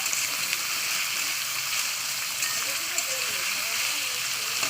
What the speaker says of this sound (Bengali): বিটটা একটুখানি দিয়ে দু থেকে তিন মিনিট আমি একটু তেলে ভালো ভালো করে নেবো